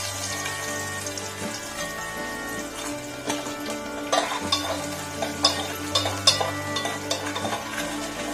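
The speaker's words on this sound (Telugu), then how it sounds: "పప్పు అయితే తాలింపు వేసుకుంటున్నాను" Spices crackle in hot oil in a village kitchen for a dal tempering, a steady sizzle with scattered popping and spoon scrapes growing busier partway through, with a low background hum.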